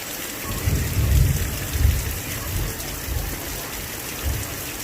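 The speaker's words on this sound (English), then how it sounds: "But it is raining heavily." Heavy rain pours down steadily during a severe thunderstorm, a dense constant roar of drops on surfaces with low rumbling thunder swelling and fading several times underneath.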